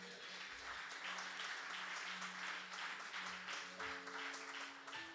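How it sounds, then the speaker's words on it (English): Church congregation clapping to honor a pastor during a service, steady applause throughout, heard fairly faint and distant without talk over it. "We can clap for that."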